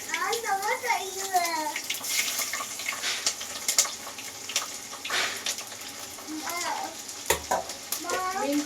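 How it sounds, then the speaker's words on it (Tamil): Garlic fries with mustard and fenugreek seeds in hot oil for fish curry, a continuous close sizzle and crackle with occasional stirring clatter, while someone talks over it at intervals. "இப்போது மீன் குழம்புக்கு தேவையான பூண்டு சேர்த்துக்கலாம்"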